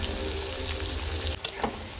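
Onion frying in a pan while a starter is prepared beside a lake, a steady low sizzle with a faint hum underneath and a couple of brief stirring clicks, quiet and without talk.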